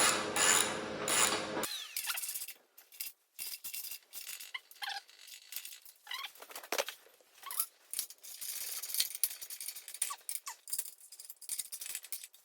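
A ratchet clicks in short, uneven bursts while a homemade gas forge is bolted down, with small metallic rattles between strokes after a brief louder sound at the start.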